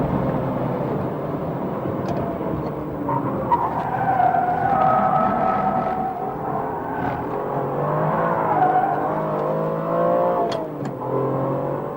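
Formula 1 car braking heavily at Silverstone, with a loud engine whine that drops in pitch through the braking and then climbs again on acceleration.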